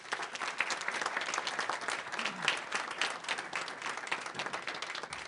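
An audience at a youth debate symposium applauds for a guest speaker with steady, dense clapping. The sound is broad and continuous for several seconds and is heard on its own.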